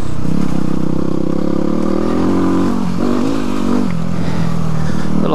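A Yamaha WR250R dual-sport motorcycle rides an unfamiliar trail in third gear, its engine droning loudly and steadily with small dips in pitch as the throttle eases and rolls back on.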